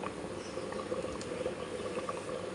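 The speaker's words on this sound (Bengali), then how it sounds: "ভাত ফুটে গেছে" Rice boils in a cooking pot with a steady, dense bubbling and gurgling that holds an even level throughout, close by and with no voices.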